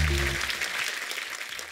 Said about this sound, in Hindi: इस बात के लिए तालियां बनती हैं